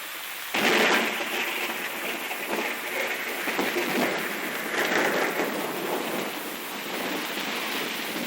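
A steady downpour hisses without a break, with low rumbling that suggests thunder. It begins abruptly, then stays fairly even and moderately loud, with no one speaking.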